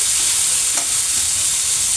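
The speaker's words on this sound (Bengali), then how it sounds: "তো এটাকে আমি সবগুলোকে আমি ভেজে নেব, একদম ব্রাউন কালার করে নেব বেরেস্তার মতো করে।" Beef pieces fry in a pan until browned, giving a steady close sizzle with a faint stir partway through and no voices.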